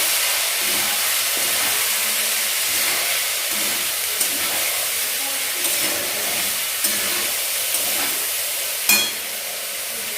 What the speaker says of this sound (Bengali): এবারে আমি এর মধ্যে আমার সেদ্ধ করে রাখা পাস্তাটা এর মধ্যে দিয়ে দেবো। একটু নেড়ে দেবো।